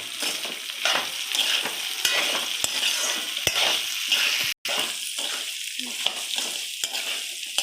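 Ginger thuvayal mixture sizzles softly in a hot pan while a spatula stirs it, with repeated scraping strokes and clicks against the metal over a constant low frying hiss.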